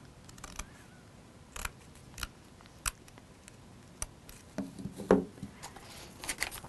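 Scissors trimming paper edges around a frame being fitted to a box, heard as a scattering of quiet, sharp snips and small clicks spread irregularly through a soft, hushed background.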